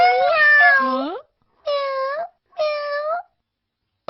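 A cartoon cat meows in three drawn-out, wavering calls, the first longest, then two shorter ones after brief pauses, loud and close with no talk over them.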